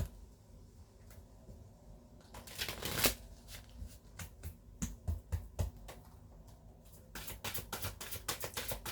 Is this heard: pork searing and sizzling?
no